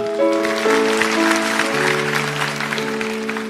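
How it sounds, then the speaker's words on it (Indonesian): A church congregation applauds, a dense wash of clapping heard together with sustained organ or keyboard chords, moderately loud and continuous. "kasih tepuk tangan untuk Tuhan"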